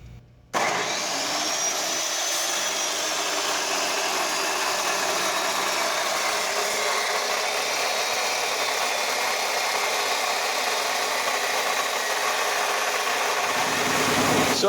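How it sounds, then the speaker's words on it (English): A chop saw cuts through thick forklift fork steel, its abrasive cutoff howl starting abruptly and holding as a loud, steady broadband grinding roar with a faint low hum underneath, winding down at the end. "using a chop saw, but it's because the bandsaw doesn't like to go through this stuff."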